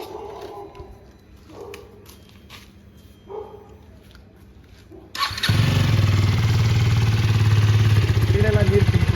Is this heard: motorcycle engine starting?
yes